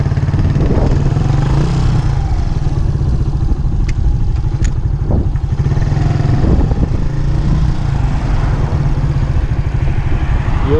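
A Suzuki Intruder 125 motorcycle engine runs loudly and steadily nearby, its low throbbing idle chugging without pause, with a couple of faint clicks.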